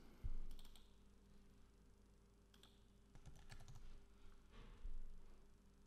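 Typing on a computer keyboard, several quick bursts of close, quiet key clicks separated by short pauses, with no talking.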